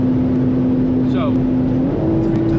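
A fast BMW M3 sedan engine drones at high speed, heard from inside, its pitch holding steady then stepping up sharply near the end as it shifts, while someone talks over it.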